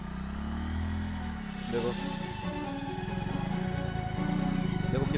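A Hero Super Splendor motorcycle revs in rising and falling surges while its rear tyre slips in thick mud. The engine sounds fairly faint, and someone talks over it.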